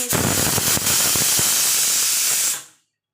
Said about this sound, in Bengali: ছয় সাতটা সিটি আমি মেরে নেব দেখুন ছটা থেকে সাতটা সিটি হয়ে গেছে